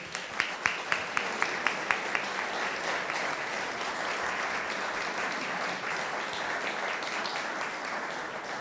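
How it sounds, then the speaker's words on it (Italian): Audience applause following a military cavalry brigade fanfare band concert, opening with a few distinct sharp claps before swelling into steady, dense clapping from a large crowd that holds evenly throughout. "meritano doppiamente gli applausi che arrivano questa sera"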